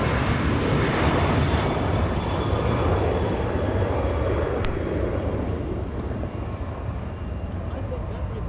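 Airliners arriving and departing at LAX, a loud, close jet roar that slowly fades, with voices talking over it.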